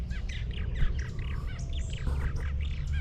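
Purple martins chirping around gourd birdhouses near a vineyard, a busy chatter of repeated short calls and warbles at moderate distance over low background rumble.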